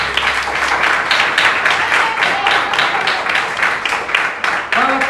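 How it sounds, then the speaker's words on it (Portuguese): A church congregation claps together in a steady, rhythmic beat that carries evenly throughout, with a voice briefly rising over it near the end. "Bate as palmas para o Senhor Jesus."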